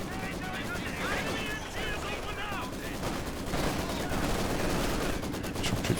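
Machine gun bursts and scattered gunfire from the World War II strategy game Company of Heroes 2, a dense continuous battle din with rattling automatic fire and explosions, with a commentator talking over it.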